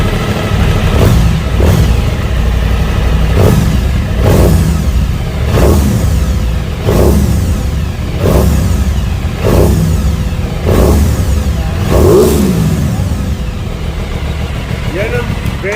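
An Aprilia big-bike motorcycle engine revs repeatedly in short, loud bursts, roughly every second or two, over a steady rumbling idle, with talk underneath.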